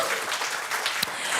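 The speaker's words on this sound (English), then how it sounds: "Give Kangen water some applause first," Applause from an audience at an Indonesian product demonstration of Kangen water, a dense, steady wash of clapping from many hands, fairly loud, close and unbroken throughout the short stretch.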